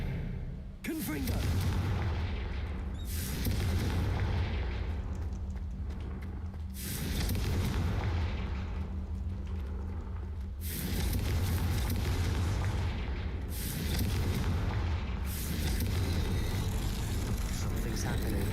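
Repeated Confringo blasting-spell explosions in Hogwarts Legacy, heavy booming blasts in steady succession with continuous rumbling, loud and close throughout.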